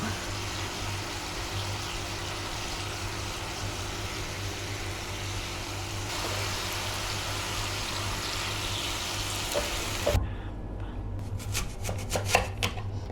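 Knife slicing an apple into thin slices on a board, a steady run of close cutting strokes over a low hum, turning sharper and more distinct near the end.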